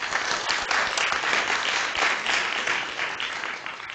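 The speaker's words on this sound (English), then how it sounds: "please give him a round of applause" A conference audience claps for the organizer in a sustained, dense round of applause that fades slightly toward the end.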